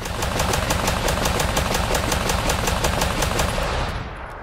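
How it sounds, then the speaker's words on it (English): A handgun in the video game Fallout 4, a Jericho 941 with a 24-round magazine, fires in a rapid, even burst of loud shots, close and continuous for about four seconds before stopping. "It sounds like a fucking hand cannon when you shoot this thing off."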